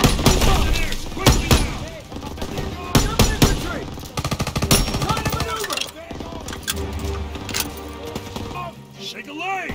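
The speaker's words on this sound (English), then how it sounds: "Gunfire! We must be near our guys." Heavy World War II battle gunfire in Call of Duty WWII, with rapid machine-gun bursts and rifle shots cracking loudly in repeated volleys while a voice speaks over the fighting.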